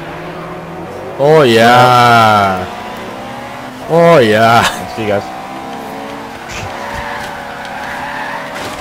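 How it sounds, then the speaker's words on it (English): An Infiniti Q50 Eau Rouge in Forza Horizon 3 drones and skids as its tires scrub, mostly buried under loud, excited talking that swells in two bursts. "The Infiniti Q50 Water Rouge."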